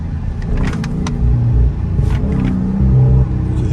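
A 2023 Dodge Last Call Scat Pack's engine rumbles steadily up close, with a few sharp crackling exhaust pops breaking through the idle.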